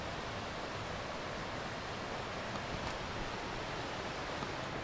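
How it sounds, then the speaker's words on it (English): A river flows far below a mountain trail at about 3000 meters, heard as a steady, broad rushing wash that stays even and unbroken throughout, with no voices. "There must be a river down there."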